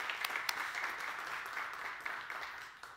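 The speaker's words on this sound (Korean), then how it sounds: "우리 격려의 박수 힘차게 보내주시면 감사하겠습니다." A church congregation at a New Year's Eve service claps in encouragement for its teachers, elders and officers, a continuous crowd of clapping with a few sharper claps standing out, steady and somewhat distant.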